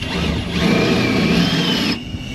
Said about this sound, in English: This one I'm just countersinking with a huge drill bit because I don't have a countersink bit.